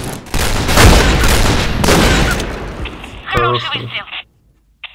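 Gunfire in the online shooter game Point Blank, a rapid burst of loud, crackling shots lasting a couple of seconds, followed by sharper clicks and a short electronic tone before falling silent; a player's voice comes in.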